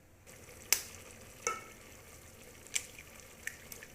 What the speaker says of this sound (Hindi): तो ये देखो जी हमने इसके अंदर अंडा तोड़ के फेंक दिया।